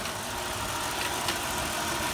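A 1989 Oldsmobile Cutlass Ciera SL wagon engine idles shortly after a cold start on a summer day, a steady, even rumble that stays close and fairly loud throughout with no voices.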